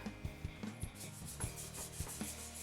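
Fingers rub paint onto a surface in soft, regular back-and-forth strokes, close and quiet, with a faint scratchy texture and no talking.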